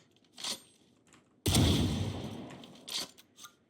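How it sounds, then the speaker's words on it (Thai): A gun in the video game Outlaw fires one sharp, booming shot that rings out and decays over a second or so, followed by brief mechanical reload clicks. "ถ้าสมมติเรายิงแค่นัดเดียวจะรีโหลดได้ไหมนะลองสิ"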